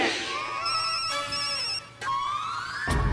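A telephone rings with a warbling electronic tone, repeating in short bursts, loud and close, with a brief break in the middle.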